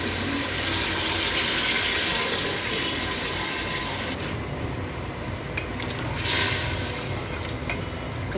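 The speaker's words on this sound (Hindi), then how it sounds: "गोश्त भुन जाने के बाद जो बची हुई यखनी थी वो हम इसके अंदर शामिल कर देंगे।" Leftover mutton broth (yakhni) pours into a pot of mutton curry with a continuous close liquid splash and gurgle that eases slightly partway through before steadying again.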